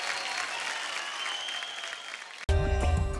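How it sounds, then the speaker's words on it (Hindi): A studio audience on a television singing show claps loudly for performers Harshit and Priti Bhattacharya. The applause lasts about two and a half seconds, then cuts off abruptly into loud music. "जोरदार तालियां हो जाए हर्षित एंड प्रीति भट्टाचार्य जी के लिए।"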